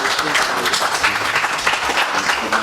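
Dense, steady applause from an audience at a medical lecture, many hands clapping together for the whole stretch without a pause.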